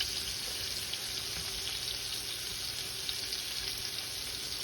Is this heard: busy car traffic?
no